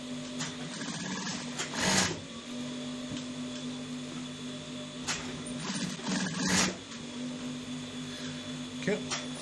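A sewing machine runs steadily as it stitches a V-neck on a senator top from the back, its hum continuous and near, broken by a few sharp bursts of handling noise and brief pauses.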